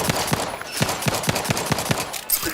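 Turret gunfire in the video game Outer Worlds 2, a steady rhythmic series of loud, punchy shots at roughly even intervals.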